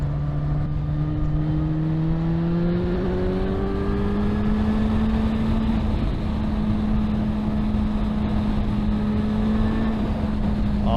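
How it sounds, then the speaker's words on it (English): A Suzuki GSX-S1000 four-cylinder 1000 cc motorcycle engine pulls hard and loud under acceleration, its steady drone rising slowly in pitch, with heavy wind rush behind it throughout. "This feels like a very strong engine for a 4-cylinder 1000."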